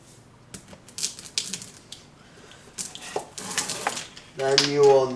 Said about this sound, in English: Then you will need to blend it all together with your whisk.